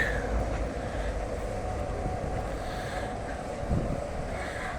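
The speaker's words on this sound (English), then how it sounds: "you could see the tram Škoda 14T, which is the most hated tram in Prague" A Škoda 14T tram rumbles past nearby in Prague, a low rolling drone of wheels on rails mixed with gusty wind noise across the microphone.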